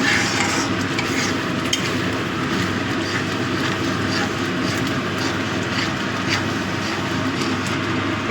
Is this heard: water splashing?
no